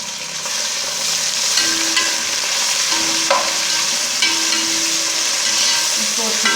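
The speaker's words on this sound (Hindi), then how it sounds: "अब इसमें लहसुन अदरक का पेस्ट डालेंगे।" Garlic and ginger paste sizzles in oil with golden-browned onions for chicken biryani, a loud continuous frying hiss close up, with occasional stirring and scraping sounds from the pan.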